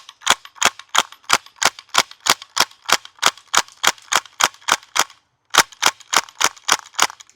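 A VFC PPSh gas blowback airsoft rifle fires two rapid bursts of sharp evenly spaced shots, about twenty then eight, with the bolt and drum magazine rattling. Near and loud, with a brief pause between bursts.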